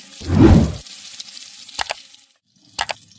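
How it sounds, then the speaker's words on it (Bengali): Mango pieces hitting hot oil set off a loud, sudden surge of sizzling that quickly fades to a faint fry, with a few sharp clicks afterward. "এগুলো তেলের মধ্যে দিয়ে দিচ্ছি একটু ভেজে নিচ্ছি"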